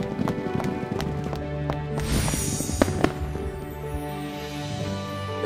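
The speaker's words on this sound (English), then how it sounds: "Prince Liam organized a horse racing competition" Horses racing in an animated fairy-tale competition, with rhythmic clip-clop hoofbeats pounding steadily under a bright music bed, plus a brief swell of crowd-like noise midway and a couple of sharp accents.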